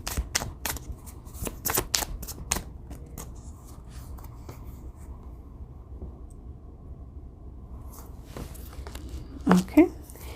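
Tarot cards being shuffled by hand at close range: a quick run of crisp papery riffles and slaps at the start, a quiet stretch, then a few more shuffles near the end.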